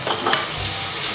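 Shallots and garlic fry in a pan with a steady, close sizzle and light stirring for a brief moment, and no voices are heard.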